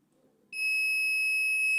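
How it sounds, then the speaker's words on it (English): A car parking system buzzer lets out a loud, steady electronic tone warning the driver of a speed hump. It starts abruptly after a brief quiet moment and holds unbroken to the end. "the buzzer will be triggered to produce sound"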